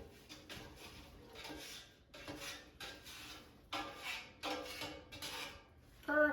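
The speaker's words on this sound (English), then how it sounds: "So I'm going to take them out of the air fryer" Potato cubes scraped and lifted out of an air fryer basket, giving a run of soft scraping and clattering bursts up close, ending in a sharper metallic clatter, with no talking.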